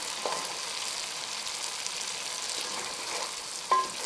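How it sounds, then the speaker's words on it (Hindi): Masala spices frying in oil in a cooking pot while preparing mutton shahi nargisi kofta, a steady soft sizzle with faint scraping stirs, low and even throughout. "ये देखिए ये हमारे मसाले भुन गए हैं"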